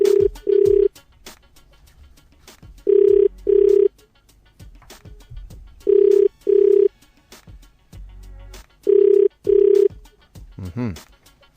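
Telephone ringback tone on an outgoing call, sounding in four evenly spaced pairs of steady purring rings with quiet gaps between them, fairly loud and clear with no talking.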